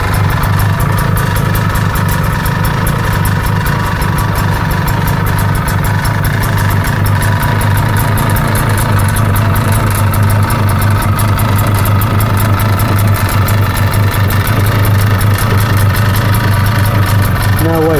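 A Bomag compactor engine idles loud and close with a steady, even throb and rattle throughout, running alone without pause.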